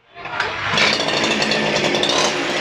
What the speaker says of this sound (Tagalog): Punta tayo sa two-stroke na grass cutter.